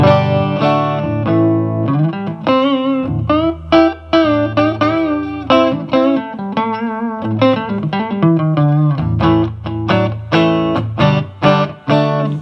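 Clean electric guitar played through a vintage Peavey Deuce solid-state amp on the rhythm setting, strummed chords and single notes in a steady rhythmic pattern, full and fairly loud.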